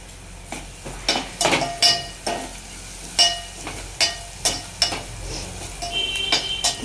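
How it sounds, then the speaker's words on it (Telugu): A ladle stirs masala dal with turmeric in a metal pot, knocking against the sides in a series of sharp clinks and scrapes about every half second over a soft background sizzle. "ఒకసారి కలుపు."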